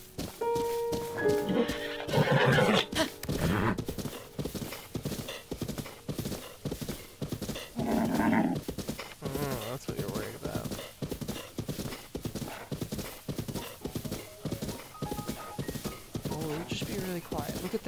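A horse whinnies loudly, then steady hoofbeats clip-clop throughout, with a second neigh midway and a voice talking now and then over the galloping, in the video game Breath of the Wild.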